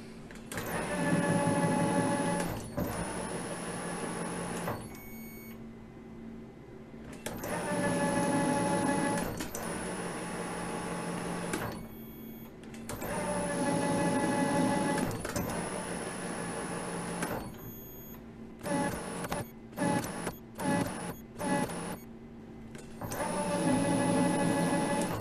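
A lathe cuts a small thread to final depth on a flux capacitor dampener part, giving repeated machine passes, each a steady whirring hum of several seconds broken by short pauses and stop-start bursts, with no talking.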